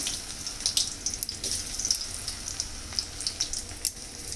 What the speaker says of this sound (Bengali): একটা করে ফুলকপিকে সমস্ত উপকরণ মাখিয়ে গরম তেলে ছেড়ে দিচ্ছি